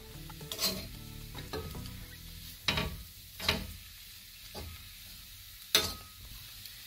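A spoon scrapes and clatters through chicken perattu in a hot pan, several distinct stirring strokes over a soft background sizzle, close and without speech.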